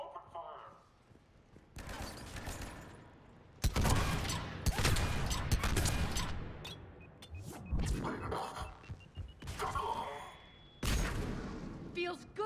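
Gunfire in Mass Effect 3, loud bursts of shots and impacts arriving in several separate volleys with quieter gaps between, close and heavy.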